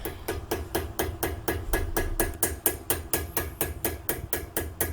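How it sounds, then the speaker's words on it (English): Rapid, evenly spaced metallic hammer blows on a Lexus IS F front brake caliper pin, about three per second, ringing sharply and continuing steadily without pause. "Once you get the top pin to the point of resistance by hand, it's time to hammer it."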